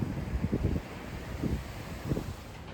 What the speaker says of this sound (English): had to get out of that dang wind.